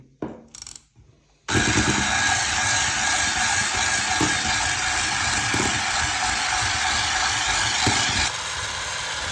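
Electric mixer beating muffin batter with kefir, a loud steady motorized whir running continuously after a few brief knocks, dropping slightly in level near the end.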